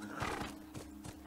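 A horse in the video game The Last of Us gives a short whinny while its hooves clip-clop in a few quick, separate steps, close and fairly quiet.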